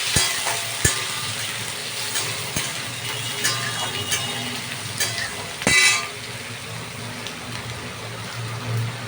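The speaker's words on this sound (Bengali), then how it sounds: "সেগুলো আমি নিয়ে ভালো করে আমি নাড়াচাড়া করতে থাকি" Egg and paneer fry in a pan with a steady close sizzle while being stirred. Sharp spatula clicks and knocks against the pan punctuate it, and a louder scraping burst comes about two-thirds through, with no speech.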